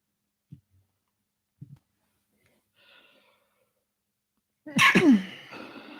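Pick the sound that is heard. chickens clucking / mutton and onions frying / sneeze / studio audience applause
sneeze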